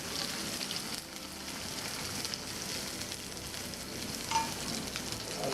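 Onions frying in a pan for a Thai coconut red curry, a steady, dense sizzle that holds even throughout with a few small pops near the end and no voices.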